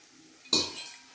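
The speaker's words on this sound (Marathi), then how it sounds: "हे गरम तूप मी या बेसनामध्ये टाकून घेईल." Hot ghee pours into gram flour in a pan for mohanthal, and a spoon stirs it: one sharp close sizzle and clink, then a short fading rustle over a quiet background.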